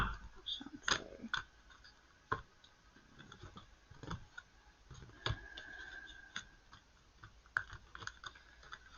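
Sharp papery snaps and soft riffling of tarot cards being shuffled, irregular bursts close by, with a quiet room behind.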